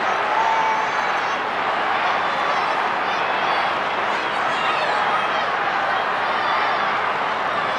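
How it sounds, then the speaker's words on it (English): Essendon supporters at the MCG in 1994 roar and cheer during a round 1 AFL match against West Coast, a steady dense wash of crowd noise from a large stadium throughout. "the Essendon fans are starting to find some voice"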